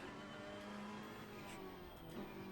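A race car engine in Assetto Corsa Competizione holds high revs, a dense buzzing roar that stays fairly constant with small shifts in pitch, quiet in level and heard alone.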